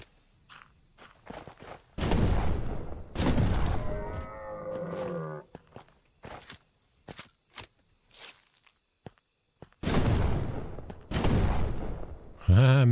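Shotgun blasts ring out at deer in the video game Alaska Gold Fever, several loud, separate booms with silent gaps between them, plus an animal call partway through.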